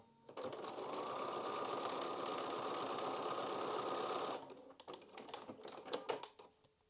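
A sewing machine runs steadily for about four seconds stitching a foundation paper pieced butterfly quilt block, then stops and is followed by a flurry of light clicks and handling noises.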